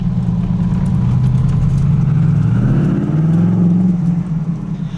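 A twin-turbo Corvette E-Ray engine pulls hard under acceleration, a loud continuous drone that rises in pitch, falls back and climbs again, with no one speaking.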